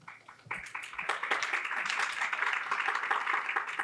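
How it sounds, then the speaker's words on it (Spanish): Audience applause swells after a few scattered claps, becoming steady, dense clapping from many hands that holds at an even level. "No lo esperabas, este aplauso no lo esperaba."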